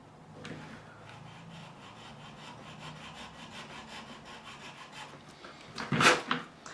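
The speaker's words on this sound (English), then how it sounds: "so we're just going to straighten off." A file rasps back and forth in a composite resin guitar nut slot on a Squier Bullet Telecaster, a steady close scraping rhythm that ends in a louder burst of strokes.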